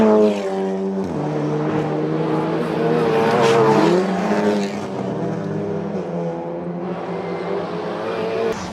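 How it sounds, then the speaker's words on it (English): Rally car engine at full throttle in top gear, a loud sustained harmonic drone with slight pitch swells, running steadily close by right before it turns into the barriers. "We're in top gear, flat out, and the car just turns into the barriers."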